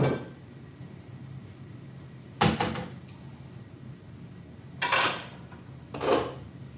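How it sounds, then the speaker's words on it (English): Pots and pans clank and bang in a kitchen while someone digs through them for a skillet, three sharp metallic bursts separated by quieter handling, close and moderately loud with no talking. "let me go ahead and find my skillet I'm gonna use."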